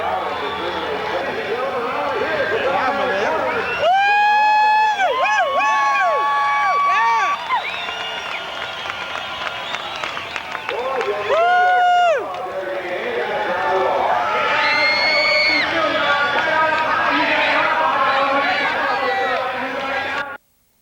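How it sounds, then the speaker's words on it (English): A crowd cheers and roars at a half-mile dirt track motorcycle race in Lima, Ohio, in 1992, with racing engines whining past loudly and a voice talking over the din. "receiving the accolades of the crowd"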